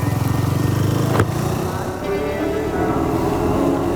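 Triumph Tracker 400 motorcycle with a 349cc single engine running, a steady mid-level thrum with a brief sharp knock partway through, heard alone without talk.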